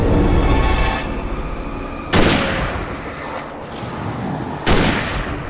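Rifle shots in the video game Alan Wake Remastered, loud booming blasts spaced a couple of seconds apart, each followed by a long rumbling decay over a constant dense background roar.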